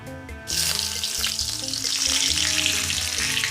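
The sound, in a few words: curry leaves frying with mustard seeds and urad dal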